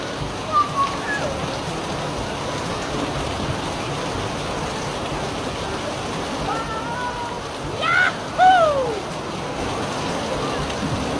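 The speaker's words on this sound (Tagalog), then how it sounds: "Parang ang lakas ng ulan!" Steady hiss of heavy rain pouring down, with voices briefly calling out over it.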